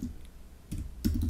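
Brief clatter of fingers typing on a computer keyboard, quiet and close, with two short bursts of keystrokes after a near-silent stretch and no talking.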